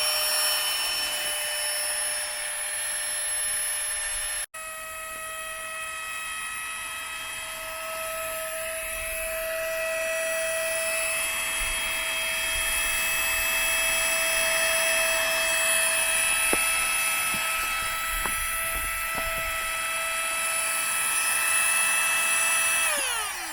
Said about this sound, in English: So we've got air mattress number 2 that we're gonna blow up.